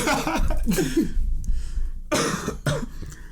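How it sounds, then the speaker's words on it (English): Several harsh, raspy coughs come in bursts, loud and close, with a brief pause before two more sharp coughs. "I'm sorry for coughing"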